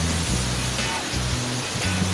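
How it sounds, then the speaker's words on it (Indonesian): Andulan waterfall near Makawa, Palopo, its water falling in a steady, loud broadband roar with no breaks, a constant wash of rushing noise heard up close. "Sekarang kita ada di air terjun Andulan."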